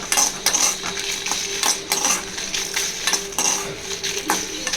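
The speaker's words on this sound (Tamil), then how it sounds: "லைட்டாக ஃப்ரை பண்ணிக்கோங்க மிளகாவையும்." Red chillies lightly frying in a pan, heard mostly as busy metallic clinks and scrapes of a utensil against the pan, steady and close, over a soft sizzle.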